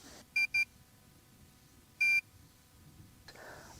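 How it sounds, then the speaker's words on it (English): The power feed receiver on a Norwood HD38 or HD36V2 sawmill sounds a quick double beep, then a single longer beep after a pause, all clear electronic tones over quiet background noise. "Toggle the receiver switch off, then back on, and listen for the diagnostic beeps."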